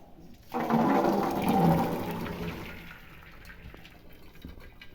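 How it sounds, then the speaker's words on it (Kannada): A burst of pouring, splashing water draining from boiled chickpeas in a colander, gushing for a couple of seconds, then thinning to a trickle and fading out. "ಇದು ಕಾಳು ಜಾಲ್ರಿ ಬಸಿಗೆ ಸೋರ್ಲಿಕ್ಕಂತ ಇದೆ"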